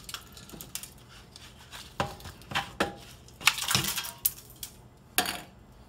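Ice cubes dropping and clinking into a glass at a home bar in Florida, a series of faint, scattered sharp clacks and rattles with one brief louder cluster near the middle.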